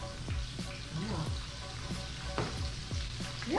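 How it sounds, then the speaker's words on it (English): Food fries in a pan while red beans are prepared, giving a continuous close crackling sizzle with occasional stirring scrapes. "Love that sizzle."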